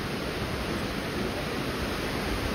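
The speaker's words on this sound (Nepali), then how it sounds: "कस्तो मजाको झर्ना एकदम यहाँ सफा गर्दैछ जिसिबीले चाहिँ है।" A mountain waterfall beside a road roars as a dense, steady, close wash of rushing water with no breaks.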